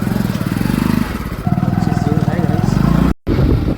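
A motorcycle engine idling and pulling away from a petrol pump after refuelling, a close, loud, steady putter with a short break near the end.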